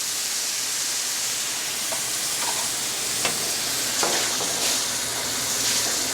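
Vegetable stock poured into a hot paella pan of grilled vegetables, a steady dense sizzle and hiss with faint clinks of stirring, loud and continuous throughout.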